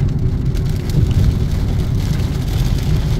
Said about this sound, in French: la pluie elle n'a pas été gentille avec nous